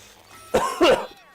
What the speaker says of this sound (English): my cough is nasty.